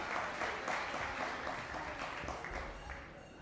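Applause from an evening audience at a Hall of Fame induction ceremony as the Assistant Vice President for Alumni Relations walks to the stage. Dense, steady clapping fills the room at moderate loudness and tapers slightly toward the end.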